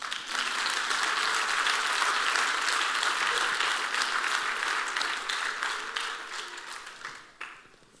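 A church congregation applauds in a sustained burst of clapping that holds strong for several seconds, then thins and tapers toward the end.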